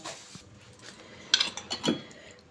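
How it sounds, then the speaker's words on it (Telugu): Soaked urad dal being tipped into a mixer jar, a short burst of clinks and soft wet knocks against the jar, close and fairly quiet with brief silence before. "ఇప్పుడు ఇది మనం మిక్సీ జార్లో వేసుకుందాం"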